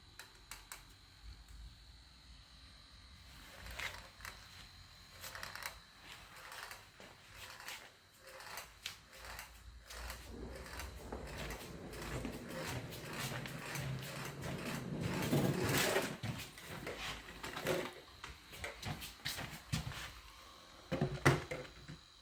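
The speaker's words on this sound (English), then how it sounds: "This is bowed, so that's going to be rubbing on the axle that goes through the middle of it." A cheap USB fan-powered toy car from Poundland whirs along while a bowed part rubs against its axle, giving a continuous scratchy, ratcheting creak that rises and falls in loudness as it runs.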